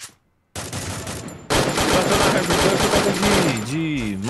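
Rapid bursts of Mac-10 automatic gunfire in a video game crackle densely after a short silence, continuous and loud, with game sound effects sweeping near the end.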